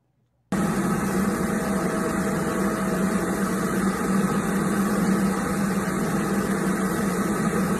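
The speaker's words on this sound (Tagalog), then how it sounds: "Ayan ang roasting ng makina nila Chit sa EcoStore." A coffee roasting machine at an eco store starts up after a brief silence and then runs on as a steady, loud, continuous mechanical drone with a constant low hum and no voices.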